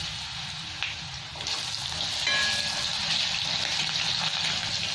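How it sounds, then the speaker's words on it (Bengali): Cut potatoes frying in hot spiced oil in a pan for a Bengali-style cabbage dish, a steady sizzle that swells as the potatoes settle, close and continuous with no talk. "এই আলুটাকে একটু লাল লাল করে ভেজে নেব"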